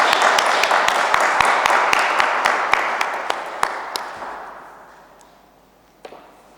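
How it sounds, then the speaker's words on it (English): Audience applause at a competition enforcement conference, a burst of clapping with sharp individual claps that gradually fades out over several seconds, with a few late claps. "big round of applause for Lefkothea and Bill"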